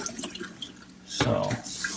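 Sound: water washing raw sesame seeds

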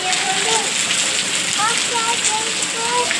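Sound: heavy rain falling

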